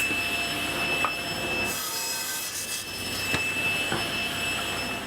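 Table saw cutting angled wooden legs for a queen-size platform bed in a woodshop, a steady loud whine and rushing drone running throughout with a couple of brief louder bites as the blade passes through the wood.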